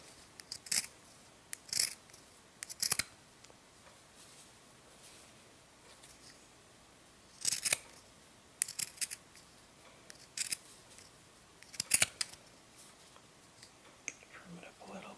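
Pinking shears trim around fabric in a series of close, crisp snipping clusters separated by quiet pauses, with soft talk nearby.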